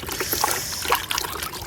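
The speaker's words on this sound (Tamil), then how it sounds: "ஓட்டையில் ஊற்றிட்டு இருக்குது." Water trickling and dribbling out through a hole in a container used to catch water for potted aloe vera plants, a soft continuous pouring with small splashy drips, close and fairly quiet.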